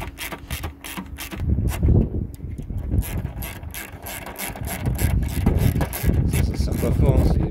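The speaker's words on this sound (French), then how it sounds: "On va remettre les deux écrous qui fixent." Two fixing nuts are refitted on a hose of a Mercedes S202. Close, irregular metallic ratcheting and clicking come from a hand tool, with rubbing and clunks in between.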